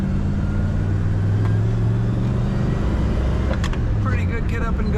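A 1965 Chevrolet Chevelle Malibu convertible's engine pulls and revs up through the RPMs while driving, a steady low rumble with rising note, heard from inside the car.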